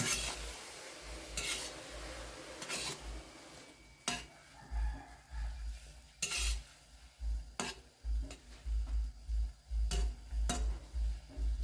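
Insects, including crickets, being stir-roasted in a pan holding too much water, with a steady wet sizzle and a sequence of sharp scrapes and clanks as a utensil stirs against the pan.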